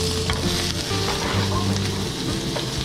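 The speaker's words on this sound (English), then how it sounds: "Give it a stir." Blue catfish pieces sizzle loudly in hot oil while being stirred, with a steady crackling hiss and occasional scraping and bubbling bursts throughout.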